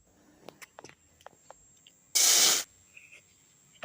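Liquid poured into a hot wok while making jam sizzles in one loud half-second burst, preceded by a few faint ticks and clinks in a quiet kitchen.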